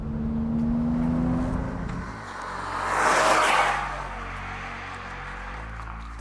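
A 2023 Mercedes-AMG E53 Cabriolet's engine pulls and then lifts off throttle, so the exhaust drone falls away into a rushing burst of crackle, followed by a faint pop near the end.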